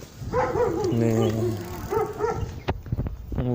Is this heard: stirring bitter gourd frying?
no